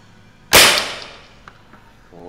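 One sharp, sudden crack of an air rifle shot at a pigeon rings out, its echo fading quickly into near silence.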